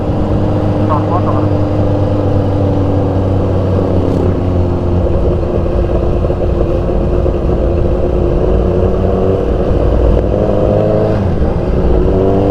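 A motorcycle engine runs steadily on a ride between Sibuco and Sirawai near the sea, a constant close drone with wind rumble and voices talking over it.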